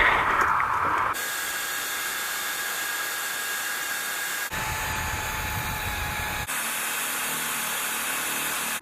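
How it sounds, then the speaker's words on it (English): An air ratchet tightens hose clamps on a Dodge Ram 6.7L air intake. It gives a steady pneumatic hiss that shifts in tone a few times, close and fairly loud, with no talking. "I'm going to sneak my air ratchet in here, tighten these clamps up."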